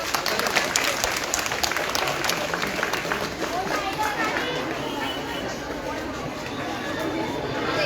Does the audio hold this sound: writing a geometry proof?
no